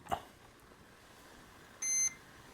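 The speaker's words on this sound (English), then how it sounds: "you heard that beep, and you can see we have a solid red light" A short, steady electronic beep from a radio receiver binding to a Flysky FS-i6 transmitter near the end, preceded by a faint click, over a quiet background.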